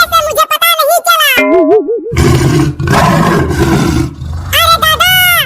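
A cartoon lion roars in a loud, rumbling burst in the middle of the clip, framed by animated high-pitched voices talking before and after.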